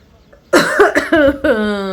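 A single loud, close cough bursts out, followed right after by a short voiced sound.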